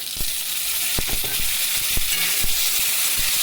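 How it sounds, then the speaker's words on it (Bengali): Chopped onions and tomatoes sizzle and fry in a pan for a small-fish sour curry, with a steady crackle and a few sharp stirring clicks, close and continuous. "পেঁয়াজটা ভালোভাবে ভেজে নিচ্ছি।"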